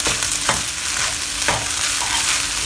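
Overnight rice is stir-fried in a wok for chicken and salted fish fried rice, with a loud, steady sizzle broken by sharp scraping strokes roughly once a second, close up and with no voices.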